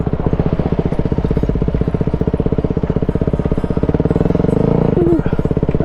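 A Kawasaki KLX250 dirt bike climbing uphill on a trail near Kingston Peak, its single-cylinder engine revving hard and steady in a low gear, loud and close with a rapid chugging pulse throughout.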